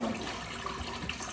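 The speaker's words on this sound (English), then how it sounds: "They flushed the toilets for the first time and got it on video." Toilet flushing for the first time in a log home in Alaska, a close continuous gush and swirl of rushing water filling the short moment with no speech.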